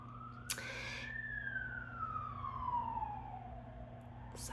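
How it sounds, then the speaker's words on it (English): A siren wails, sweeping up then slowly gliding down in pitch, loud and fairly close over a low rumbling background, after a sharp knock near the start. "Sirens."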